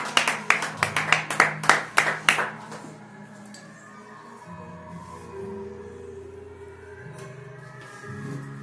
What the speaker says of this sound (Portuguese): E as palmas lá do Senhor.